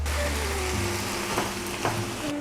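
Taco seasoning and meat sizzling and frying in a pan in a small New York City apartment kitchen, a steady close crackle with a low background hum and occasional stirring scrapes.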